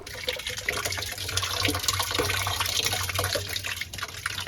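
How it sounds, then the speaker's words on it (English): Water runs continuously into a rain barrel, a close, steady splashing with a low rumble underneath and scattered drips. "we are getting water into our rain barrel bucket right now"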